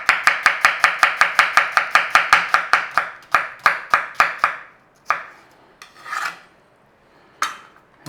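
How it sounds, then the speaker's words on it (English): A knife slices through an onion on a cutting board in a rapid, even run of about twenty crisp chops, then slows to a few scattered cuts and soft scraping, close and clear with no voices. "What an onion. And we want it slicing,"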